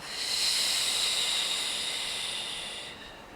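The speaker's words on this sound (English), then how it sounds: "Breathing out a little extra." A slow, deep exhale during a guided breathing exercise: a long, airy breath out rising quickly, then fading gradually over about three seconds, heard close and alone.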